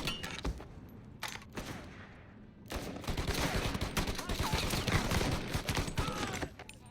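Gunfire in the video game Mafia: Definitive Edition: rapid, dense volleys of shots crackling continuously, thin and sporadic at first, then a sustained heavy barrage through the second half.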